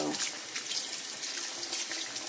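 Water streams steadily from a tap while hair extensions are rinsed, a continuous close hiss and splash with uneven gurgling flow throughout.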